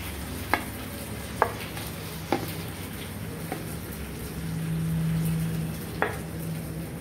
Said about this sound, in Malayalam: അതിലേക്ക് നമ്മൾ വറുത്ത് വെച്ച മീൻ കഷ്ണങ്ങൾ ഓരോന്നായിട്ട് ഇട്ട് കൊടുക്കുന്നു